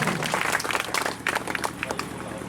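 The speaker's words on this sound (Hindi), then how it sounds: "जोरदार ताली एक बार बजाइए सभी लोग।" Applause from an audience at a Sahara India meeting in Bisfi, a dense, steady wash of clapping and crowd noise held close and loud throughout.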